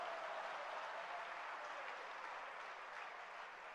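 Audience applause at a Jain religious gathering, steady sustained clapping from many hands throughout, fairly distant and even, with no talk over it.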